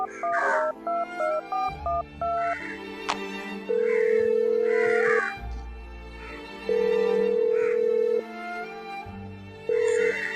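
An outgoing phone call starts with a short melodic chime, then three long, steady ringback tones repeat with pauses between them, clear and close, and no one speaks.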